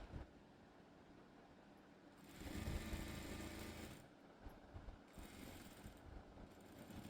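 A sewing machine stitches a school uniform top in a short, faint burst of rapid mechanical whirring lasting a couple of seconds, set against quiet room noise.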